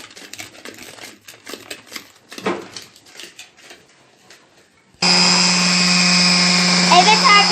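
An electric mixer beats cake batter with flour for a banana mole cake, starting abruptly after some soft kitchen clatter and holding a loud, steady whir to the end.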